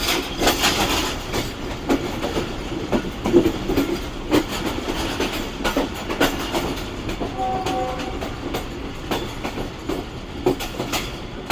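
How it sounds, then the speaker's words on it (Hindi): A passenger train, the Rehman Baba Express hauled by locomotive GU49015, rolls steadily along the rails with continuous clickety-clack and rumble, and a short horn tone sounds partway through. "ये रहा जी बिल्कुल सामने हमारी ट्रेन का लोकोमोटिव GU49015।"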